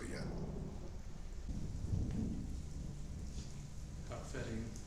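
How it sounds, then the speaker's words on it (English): Thunder rolls in a low rumbling swell during a rainstorm on a farm, with steady rain hiss throughout and a brief muffled voice nearby, moderately faint. "Thunder roll It just now. kind of rolls right through there."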